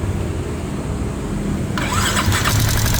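A running engine rumbles up close, and partway through a rapid metallic ticking clatter from a faulty intake and exhaust rocker arm joins in, persisting over the steady motor noise.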